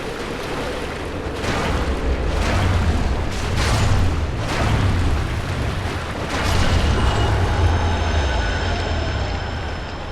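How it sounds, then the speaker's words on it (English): Deep booming explosions and heavy rumbling roll through a Dark Souls battle where bone wheels fly, a loud, continuous low roar swelling in repeated waves over about ten seconds. "There was just death and explosions and flying bone wheels."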